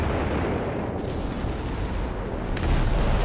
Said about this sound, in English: Panzers firing, Nebelefers firing